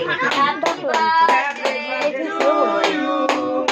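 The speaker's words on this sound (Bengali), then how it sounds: "হ্যাপি বার্থডে সবাই হাততালি দাও" Family members clap at a child's birthday celebration, a quick run of sharp hand claps repeating roughly in time over a background of overlapping voices and singing.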